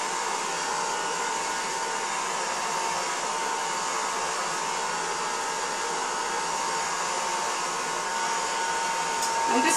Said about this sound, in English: You're going to take your blow dryer, you're going to put it on a low setting,